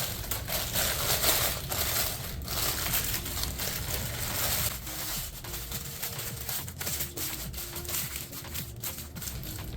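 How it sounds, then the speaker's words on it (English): Parchment paper is crumpled by hand in a kitchen while lining a springform pan for an air-fryer cheesecake, giving close, continuous crinkling and crushing that eases slightly halfway through. "I'm just going to crumple it up, which makes it easier to line the pan"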